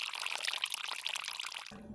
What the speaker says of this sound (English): I might do some pouring now, rather messily